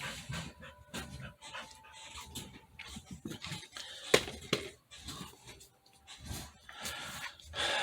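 Dogs pant, whimper and snort faintly in the background, with a scattering of soft irregular sniffs and shuffles and one sharper snort near the middle.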